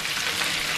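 Potatoes fry in a pan with a steady, close, dense sizzle that holds evenly throughout, with no voices.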